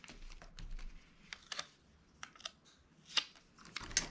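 A few quick snips of scissors trimming a planner sticker, light crisp clicks scattered over a few seconds, close and quiet with no talk.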